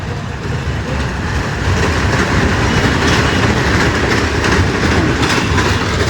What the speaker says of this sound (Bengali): এই যে দেখে নাও একটা ট্রেন যাচ্ছে